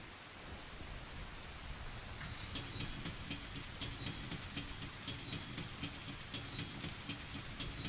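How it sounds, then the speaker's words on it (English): Rain falls steadily on a stormy night by Hyrule Castle in Ocarina of Time, a constant hiss with faint rumbling thunder underneath and a soft patter of drops that grows slightly in the second half. "Stormy Night by Hyrule Castle."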